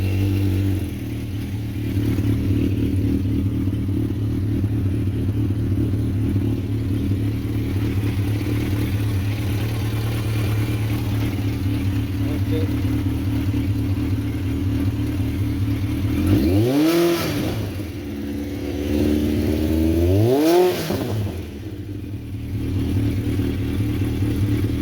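A Yamaha XJR 1200 or Suzuki GSX 1400 motorcycle engine idles steadily while warming up on choke, then is blipped twice into sharp, rising revs that fall back to idle, loud and close with no talk.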